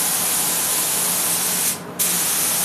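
A spray gun nozzle lays a top coat finish in a steady, loud, continuous hiss, with a brief dip near the end where the spray is interrupted before resuming.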